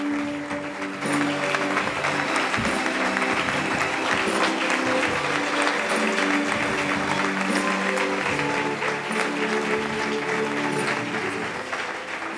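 An audience applauds steadily at a Spanish Socialist Party political rally in San Martín de Valdeiglesias, producing sustained, dense clapping that fills the space from start to end with no speech over it.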